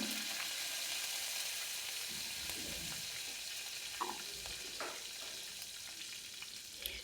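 Mustard seeds, cumin seeds and curry leaves sizzle steadily in hot oil for a sambar, a continuous close frying hiss with occasional sharper pops and crackles throughout.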